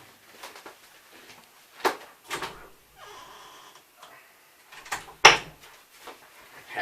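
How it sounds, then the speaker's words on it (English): A door is opened in an indoor workshop, heard as scattered clunks, a latch click and soft scraping movements, with one sharp knock standing out near the end amid otherwise quiet room tone. "had to go open the door for my helper"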